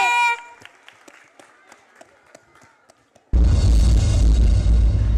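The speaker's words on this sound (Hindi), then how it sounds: "तो जोरदार तालियों के साथ उनका स्वागत कीजिए।" Loud, dense crowd applause bursts in abruptly after a few seconds of quieter, scattered sounds and continues at full strength to the end.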